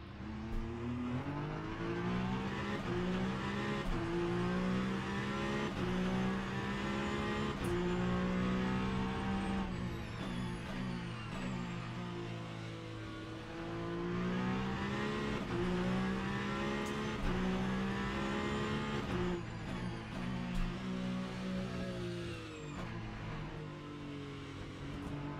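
GTE and hypercar race cars in the Le Mans Ultimate sim at Imola roar continuously, their engines rising and falling through gear changes as they accelerate and lift, loud and close with no talking.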